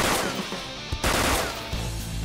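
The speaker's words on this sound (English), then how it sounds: "Okay, we have the special gun attack." Gunfire from a special gun attack in the Persona 5 video game: a loud burst of rapid shots, a brief pause, then another sustained volley of shots.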